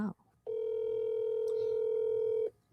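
A telephone ringback tone sounds on an outgoing call: one steady, loud, unbroken tone lasting about two seconds, preceded by a brief vocal sound and followed by near silence.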